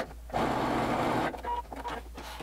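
A sewing machine runs a steady stitching seam on a mermaid dress, a continuous buzzing run that stops abruptly, followed by softer handling and shuffling noises.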